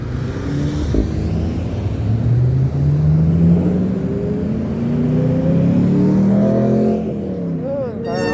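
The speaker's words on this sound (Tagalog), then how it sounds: "Akala ko kotse, akala ko motor. Kotse pala yun." A car goes by on the road while someone rides a bicycle in the cold, a steady engine hum rising and falling in pitch, close and fairly loud.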